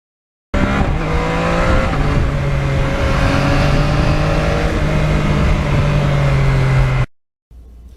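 A Yamaha MT-09 motorcycle with no muffler, only a catalytic converter and exhaust outlet, roars loud and close in a sustained rev lasting several seconds, then cuts off abruptly.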